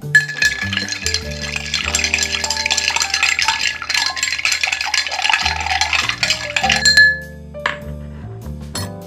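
Spoon stirring an iced coffee cocktail in a glass, with rapid bright clinking of ice against glass for about seven seconds before the motion stops and a few faint clinks trail off.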